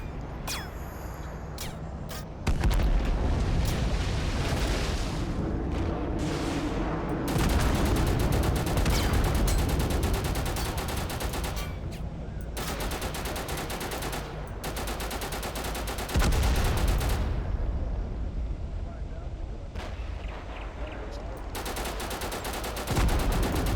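Sustained battle in the video game Total Conflict: Resistance, with an airstrike and gunfire: dense rattling volleys and booms that keep going, fairly loud and broken by brief lulls, with no talk.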